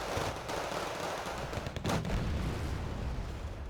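Gunfire from Fusilier 90 units in Wargame Red Dragon crackles as a dense, continuous distant rattle of shots, quiet and steady, with a slightly heavier burst near the middle.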